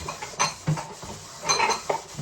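Old pots and dishes being scrubbed and handled, with a few close clinks and scrapes of metal cookware in an irregular rhythm, no voices.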